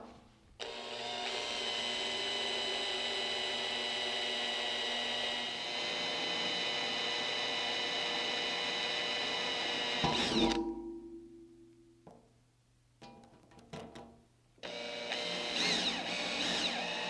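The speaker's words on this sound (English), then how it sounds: "We first want to drill a small hole as a pilot hole before we drill a larger hole." Power drill boring a small oiled pilot hole in metal on a Unisaw restoration, a sustained loud whining motor drone that runs for about ten seconds, winds down, then briefly restarts, with no talking.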